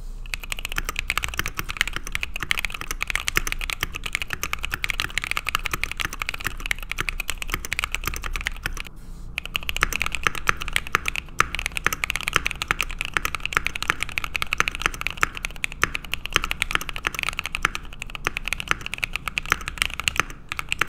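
Steady, fast typing on a mechanical keyboard fitted with lubed and filmed Bolsa Namazu long-pole switches, producing a dense, even patter of close, crisp keystrokes with a brief pause partway through.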